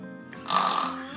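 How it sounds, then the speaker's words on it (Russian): Children snoring during nap time at a kindergarten, a short raspy snore-like rasp swelling in the middle and fading, fairly close and moderately quiet. "Весь сонный час храпели."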